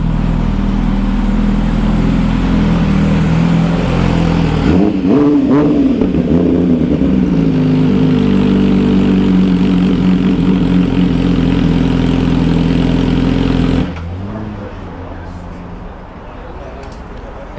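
An MV Agusta motorcycle with custom wheels and carbon parts runs loud and close, idling steadily and then revving hard in bursts before dropping to a quieter idle, with people talking over it.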